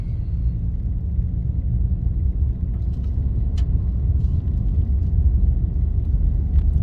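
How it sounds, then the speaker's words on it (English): A 2022 Ford Maverick pickup rumbles steadily along, a low engine drone with scattered crunching clicks from tires rolling over loose gravel. "Kind of take it easy on the gravel here."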